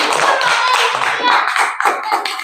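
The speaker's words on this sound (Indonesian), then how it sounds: "Kita tepuk tangan." Children in a classroom clap their hands together, a dense, close burst of quick, uneven claps lasting a couple of seconds.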